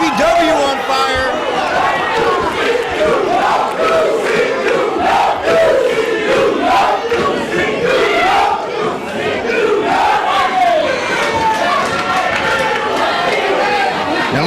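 A wrestling crowd at an ECPW show roars and chants continuously throughout, loud and dense, with shouted cheers and babble rising in waves over a steady roar.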